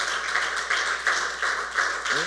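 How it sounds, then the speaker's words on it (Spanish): A church congregation claps steadily, a dense, even wash of applause up close with a rhythmic pulse about every third of a second, and no voices over it. "Fuerte, fuerte ese aplauso."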